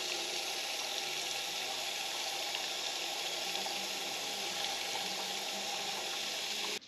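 Water pours steadily from an eye wash station aboard a boat, a constant close hiss and splash that runs unbroken for several seconds with no talking.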